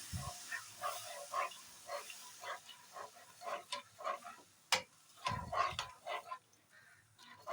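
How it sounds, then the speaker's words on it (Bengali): Coconut milk simmers with a fried spice paste for a Bengali prawn malai curry. Soft, irregular bubbling pops and a faint steamy hiss continue throughout, quiet and close. "নারকেলের দুধটা সুন্দরভাবে ফুটে উঠেছে।"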